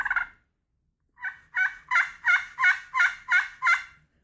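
A turkey call, a hunting call proven on several birds, gives a short yelp, then after a pause a steady run of seven loud, evenly spaced yelps, close and clear with no talking.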